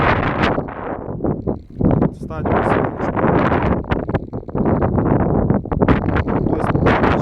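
Strong gusty wind buffets the microphone at an open-field air rifle range, a continuous loud roar that swells and dips, while someone talks close by throughout.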